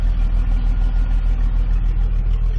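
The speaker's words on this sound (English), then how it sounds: "Now all the exhaust noise is coming out of the tailpipe like it should." A 1998 Jeep Cherokee XJ with the 4.0 inline six idles after a cracked exhaust manifold was replaced. The exhaust leaves the tailpipe as a loud, close, steady idle with an even pulsing beat, with no voices.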